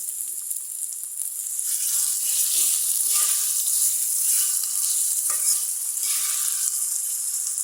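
Garlic frying in a pan for a beef liver bhuna, a steady bright sizzle with intermittent scraping stirs, close and continuous with no talk.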